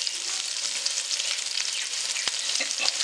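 Green chillies, ginger and coriander sauté in hot oil over a low flame, making a steady bright sizzle with occasional light spatula taps, close and moderately loud, with no talking.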